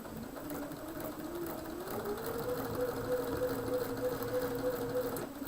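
A sewing machine stitches along a quilt seam line, a quiet steady whir with a faint rhythmic mechanical buzz that rises slightly partway through and runs on alone.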